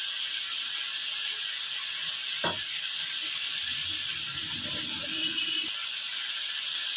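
Hot pan of Bengali pakal fish curry hissing steadily as water is poured in, with a sharp splash and bubbling sizzle over a constant high steam hiss; nobody talks.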